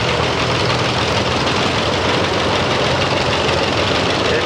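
A John Deere 60 antique tractor engine idles at an outdoor antique power tractor show, a steady, loud low rumble with a continuous knocking chug that holds evenly throughout, with no talk over it.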